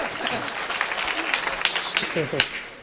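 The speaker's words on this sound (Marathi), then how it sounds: "टाळी वाजवा टाळी वाजवा" An audience claps in scattered bursts at a live kirtan gathering in Udapur, with a voice talking over the applause.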